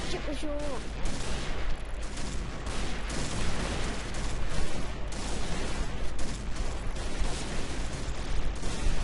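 Rapid gunfire crackles in a shooting video game, loud and dense, with bursts of shots running almost without a break throughout.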